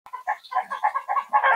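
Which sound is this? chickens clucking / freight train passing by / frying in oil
chickens clucking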